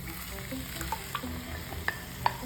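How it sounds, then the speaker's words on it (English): Tomato puree being stirred into a hot, sizzling pan while butter chicken is cooked, low frying hiss under occasional sharp scrapes and clicks from the spoon, no talking. "We're going to add in tomato puree."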